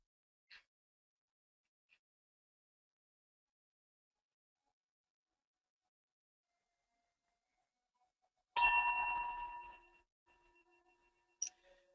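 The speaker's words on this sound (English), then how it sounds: "this nice little ding, this little meditation bell that tells you to move forward" A small meditation bell rings once with a bright, clear ding, then a sustained tone slowly fades. Two faint ticks come first in near silence, and a short soft chime follows at the end.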